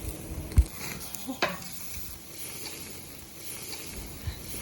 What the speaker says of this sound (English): It's time to flip the steaks over.